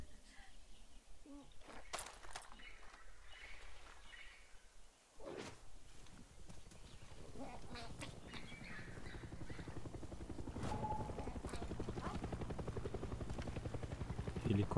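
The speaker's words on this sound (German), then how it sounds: "Helikopter." Helicopter in the video game Far Cry 6, its rotor chop building into a loud, steady rhythmic thrum that grows louder toward the end, with game effects and brief voice around it.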